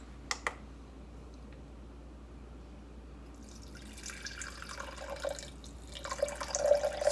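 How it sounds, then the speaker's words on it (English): Water is poured into a sourdough starter in a kitchen. A couple of sharp clicks open the sound, a quiet stretch follows, and then a trickling pour builds and grows louder toward the end. "Now I'm gonna add water,"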